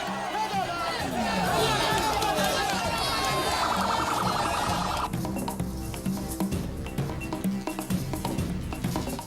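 Crowd cheering and chattering as a president walks home after Eid al-Kabir prayer at an Eid prayer ground, a busy outdoor mix of voices, whistles and siren-like tones, fairly distant and continuous.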